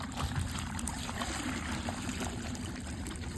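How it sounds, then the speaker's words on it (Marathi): Water trickles and gurgles steadily, slowly, from an opened valve, a continuous splashing flow heard close by without speech. "कारण की पाणी भरपूर स्लो सुटते वॉल बघा"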